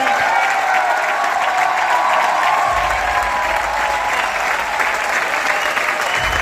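A large indoor audience at an anniversary event breaks into sustained, loud applause, continuous dense clapping with faint cheers mixed in and little talk.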